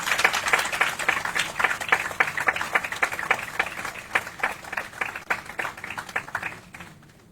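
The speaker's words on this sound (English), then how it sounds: "Let's welcome him with a round of applause." An audience at a youth democracy forum claps to welcome a university professor to the stage: a steady patter of many hands that thins and fades out near the end.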